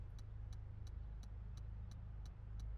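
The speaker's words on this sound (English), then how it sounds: "We are in a Hyundai Elantra N TCR." Hyundai Elantra N TCR touring race car engine droning steadily from inside the cabin, a constant low rumble with a faint regular ticking on top, no voices.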